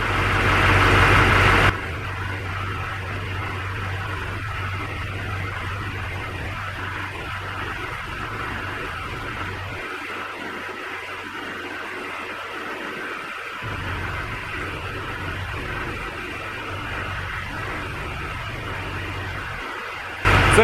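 A Duramax diesel truck engine idles steadily just after an injector install, a constant low rumble heard alone and without talk, with a short louder burst at the very start.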